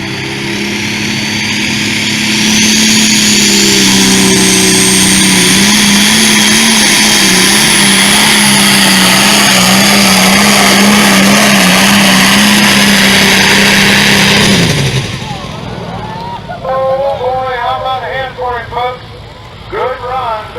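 A pulling tractor's ungoverned engine screams at a steady high pitch through a tractor pull run at the Washington County Ag Expo, loud and sustained, then cuts off, leaving crowd noise and a voice.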